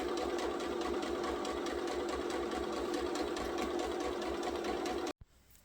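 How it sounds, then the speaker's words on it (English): Fast steady stitching of a sewing machine sewing a fabric jar opener with a 1/4 inch seam allowance, a close continuous rhythmic whir that stops abruptly near the end. "I've sewn all the way around using a 1/4 inch seam allowance"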